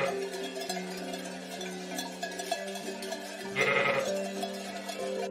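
Several sheep bleat in overlapping calls against a busy farmyard background in a French children's cartoon, with one louder, nearer bleat standing out toward the end.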